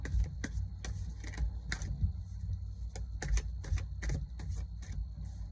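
Tarot cards being shuffled close up, quiet rapid riffling snaps and taps in irregular bursts, with no voices.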